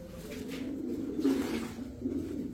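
Racer pigeons at a pigeon market give soft, low, rolling coos that come in faint waves over a quiet background hum, with no talking.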